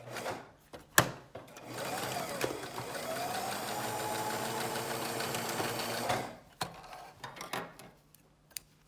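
A sewing machine stitches darts on a three-layer fabric face mask, starting with a short burst and then running in a steady whir for about five seconds before stopping, followed by quieter handling clicks.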